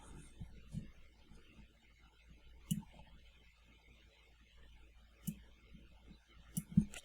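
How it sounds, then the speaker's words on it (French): A computer mouse clicks several times at irregular intervals while shapes are drawn and moved in SketchUp LayOut, with sharp, close, quiet clicks over a faint background hum. "je vais cliquer dessus"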